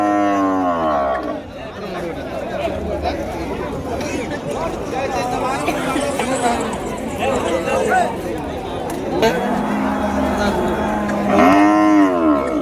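Cattle moo loudly and repeatedly at a busy livestock market, the calls near and drawn out, over a constant babble of crowd chatter and people talking.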